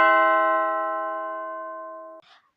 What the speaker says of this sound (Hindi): तभी मेरे घर की घंटी बजी।